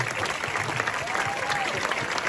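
Audience at a film premiere for the Caserta-made "Scugnizzi per sempre" applauds the crew, a steady, dense round of clapping filling the room, loud and even from start to end.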